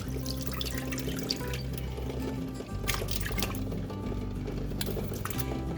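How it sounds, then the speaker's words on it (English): Canned Bruce's yams in syrup poured from a 40-ounce can into a cooking pot at home, a steady close liquid glug and splash running continuously over a low hum. "I'm going to pour a 40-ounce can of the Bruce's yams and the syrup in a pot."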